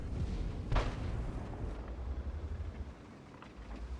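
A Leopard tank fires a single heavy cannon shot at a Conqueror tank in a tank battle video game, with a sharp blast followed by a low rumbling tail and a softer distant boom later.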